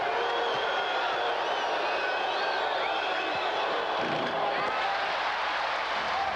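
Basketball arena crowd in a 1984 Bucks–Nets playoff game roaring and whistling during free throws, a dense continuous cheer with scattered whoops throughout.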